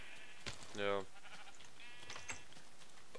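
A Minecraft sheep gives a single short, buzzy bleat near the start, standing out against a quiet game background with faint scattered clicks and soft incidental sounds around it.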